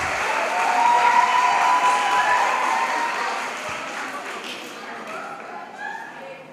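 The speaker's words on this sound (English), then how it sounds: "Let's give them a big round of applause." Sustained applause from a school audience for the graduating class of 2022 at a Hosanna Preparatory School ceremony, loud at first and slowly fading, with scattered voices mixed in.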